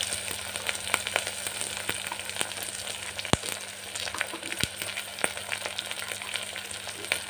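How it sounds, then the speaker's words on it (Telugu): Carrot and capsicum with already-fried onion frying in a pan for a vegetable pulao, a steady close sizzle with a few sharp clicks of a utensil against the pan. "ఇది కొంచెం 5 మినిట్స్ ఫ్రై చేసుకోవాలి."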